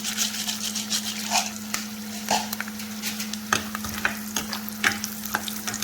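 Food sizzles in a hot frying pan while being stirred for a stuffed chicken with bulgur and chickpeas. A steady frying hiss runs under a low hum, broken by sharp scraping stir strokes.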